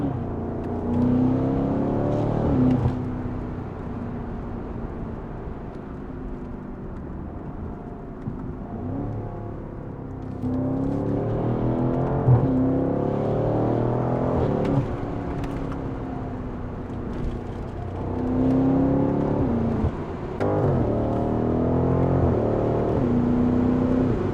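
A BMW M550i G30 V8 with a full aftermarket exhaust and OEM downpipes revs repeatedly, loud and close, with a steady engine drone rising in waves between throttle blips.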